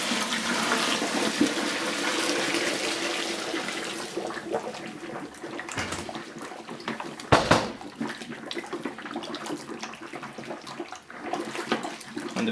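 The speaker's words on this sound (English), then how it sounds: "the bubbling is that the water is entering the mash below" Hot water pours from a heater into a wheat beer mash during homebrewing, giving a steady rushing gurgle and bubbling that thins out midway, with a few clinks and splashes.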